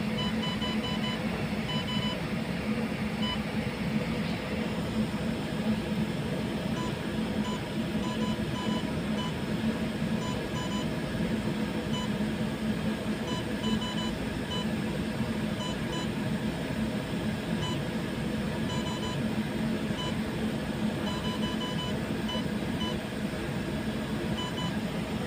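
A ball mill control panel alarm beeping, a run of short regular high beeps repeating steadily over the constant drone of running machinery in an industrial setting.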